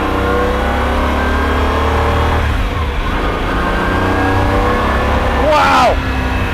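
Jaguar XJR-15 supercar engine revving hard under acceleration, a loud, continuous mid-pitched roar with rising harmonics that dips briefly and then climbs sharply in a quick rev near the end.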